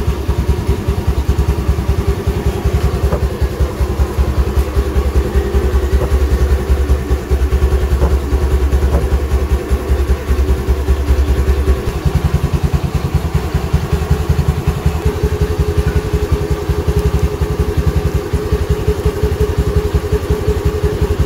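A Honda Navi scooter engine idles steadily up close, a constant putting rumble with light mechanical clatter and no talking.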